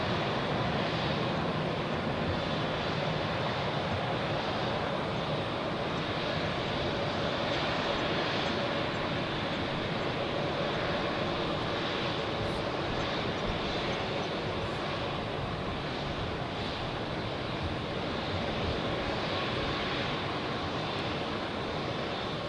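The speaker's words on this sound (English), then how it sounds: "Look at this A320 there, how this one is taxiing" An Airbus A320 taxiing at Zurich airport produces a steady, broad jet engine roar that holds at an even level throughout, with no voices over it.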